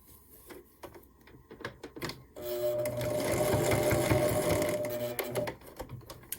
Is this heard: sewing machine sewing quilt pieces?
yes